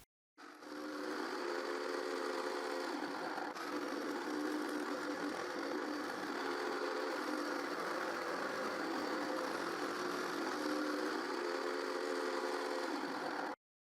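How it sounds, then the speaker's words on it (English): A power tool running steadily as wood is spun in a homemade circle-cutting jig, a continuous even whine with a faint rhythmic pulsing, starting abruptly and cutting off cleanly, no talking. "With this jig I can cut wooden circles. I just have to spin the wood until the circle is cut."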